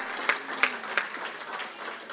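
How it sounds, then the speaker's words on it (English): An audience at a party address applauds election candidates, a short burst of scattered clapping from a crowd at moderate distance. "Let us hear the applause for them."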